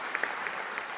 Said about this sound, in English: so we can give ourselves a good of applause